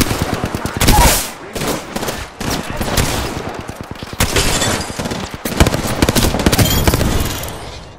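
Gunfire in the Apex Legends video game: loud, close rapid bursts of automatic weapon fire crackling almost continuously, with brief gaps and a few heavier shots.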